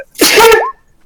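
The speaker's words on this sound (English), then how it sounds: "it hurts to sneeze" One loud, close sneeze from a person, a sharp breathy burst that ends with a short voiced squeak and then fades into silence.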